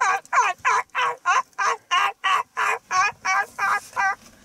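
A boy of about twelve imitates a turkey gobble with his voice, a fast series of about a dozen throaty, rattling syllables, loud and close.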